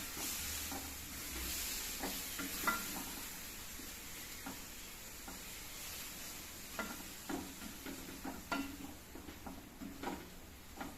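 Boiled beef tripe frying in a pan with roasted masala, a steady low sizzle broken by repeated scraping and clattering stirs of a spoon, close and fairly faint.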